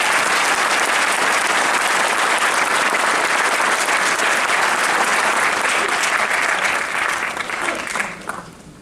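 Sustained, loud audience applause fills a school auditorium at a state senator's oath of office ceremony, dense clapping steady for several seconds before thinning and trailing off near the end.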